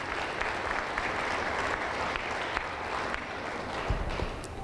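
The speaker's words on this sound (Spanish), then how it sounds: "Aplauso contento para Jesús." Sustained applause from a Pentecostal church congregation, a thick, steady roar of many hands clapping throughout, with a few sharper nearby claps standing out.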